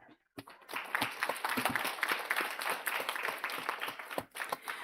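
Board meeting audience claps steadily for several seconds, a dense patter of many hands building quickly after a brief pause and continuing at a moderate distance.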